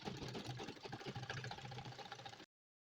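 A sewing machine stitches along a seam line on fabric with a quick, steady mechanical whir and rattle, close and fairly quiet, then cuts off abruptly.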